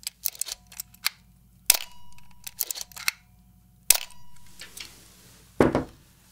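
An old film camera wound by hand, giving several short, crisp mechanical ratchet clicks and clacks in separated bursts, followed by a louder snap of the shutter near the end, all fairly close and alone without talk.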